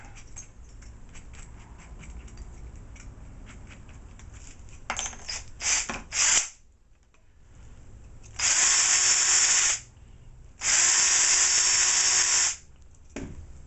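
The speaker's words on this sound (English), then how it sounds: "I think that drill bit's too big" Short bursts of a power drill whirring while drilling balsa for a model aircraft tail boom repair, two sustained loud runs of a few seconds each after some brief clicks and handling noises, close by.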